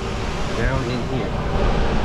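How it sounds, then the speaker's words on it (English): Shore power inverters running near the engine room of a 92-foot Viking fishing boat, a loud, steady mechanical hum and whir that fills the space without pause, with a faint tonal whine drifting in and out. "It's a little noisy right here because I have all the shore power inverters going."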